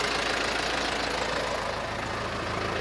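An Isuzu Elf 4BE1 Eagle diesel truck engine runs steadily, a close, continuous rumble with a faint knocking pulse and no pauses.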